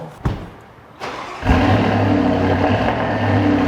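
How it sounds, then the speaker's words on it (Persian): A 2025 Audi Q8 starting up: a starter click, then a short pause and the engine catching with a loud rise before settling into a steady, close idle rumble. "سری شاهکار Q8 برای شروع یه استارت میزنیم ماشینو"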